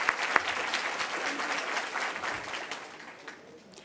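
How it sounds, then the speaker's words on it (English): Loud, full applause from a luncheon crowd at a Women's History Month event greets the year's award nominees, starting with a couple of crisp claps and gradually tapering off toward the end. "A round of applause for all of the nominees this year."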